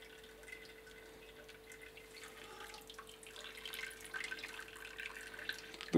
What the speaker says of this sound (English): just let all the water drain out of it